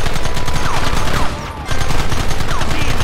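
A volley of rifle fire in Red Dead Redemption crackles out in rapid overlapping shots, loud and close, dropping briefly before another ragged burst of gunfire resumes.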